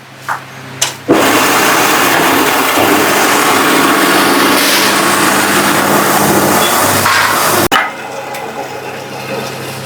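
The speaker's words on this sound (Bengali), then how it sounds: "আমি ভুট্টাটা এবার দিয়ে দেখছি" A mini rice mill machine runs steadily and loudly while corn is fed through it for milling, a dense continuous grinding roar that starts abruptly, holds for about six seconds and cuts off, with quieter machine noise before and after.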